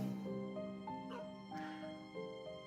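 Dogs in an indie video game trailer whimper and yip in short, faint, high cries over a steady musical backdrop.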